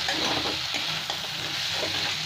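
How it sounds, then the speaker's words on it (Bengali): Potatoes and poppy seed paste fry and get stirred in a pan over low gas, giving a steady close sizzle with a few scraping stirs throughout. "এই পোস্ত দিয়ে ভাজতে ভাজতে পোস্তটাও খুব সুন্দর ভাজা হয়ে যাবে"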